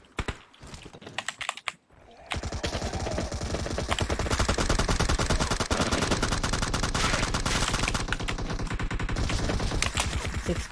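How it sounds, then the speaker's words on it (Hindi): Sustained automatic gunfire in PUBG's zombie mode, a loud rapid continuous stream of shots after a few scattered opening bursts and a brief pause. "वो अपने आप शॉट चल रहा है मेरे में।"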